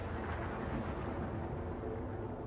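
A loud, steady rumbling roar of spaceship engines in a video game, constant and close, with no voices.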